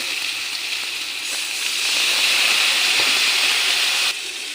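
Spices frying in hot oil for a shutki and greens dish give a loud, steady sizzle and hiss up close that swells midway and then drops off suddenly near the end.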